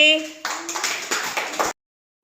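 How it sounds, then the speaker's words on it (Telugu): Children in a primary classroom clap together for about a second and a half, a dense burst of hand claps that stops abruptly, with a teacher's voice briefly heard before it. "క్లాప్స్ అందరికీ"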